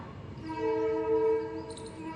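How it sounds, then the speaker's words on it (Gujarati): A distant train horn near a railway station sounds in a long steady tone over low rumbling rail noise, rising slightly then fading, with no voices. "ધીમો ધીમો ટ્રેનનો અવાજ ચાલુ રહી કારણ કે અમારા ઈસરીના ખૂણા જ રેલવે સ્ટેશન આવી છે"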